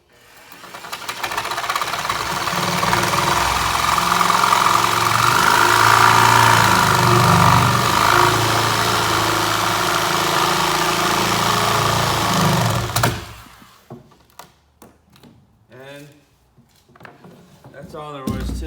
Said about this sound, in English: let's take our sawzall and let's try to make as good a clean cut as we can